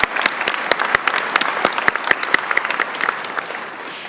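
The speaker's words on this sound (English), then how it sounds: "That deserves a round of applause." Audience applause fills a university spring convocation hall for the health sciences faculty, a dense, steady patter of many hands clapping with sharp individual claps standing out, loud and close, easing slightly toward the end.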